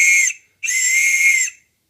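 Two shrill, piercing whistle blasts, a short one followed by a longer sustained one, loud and close with silence after.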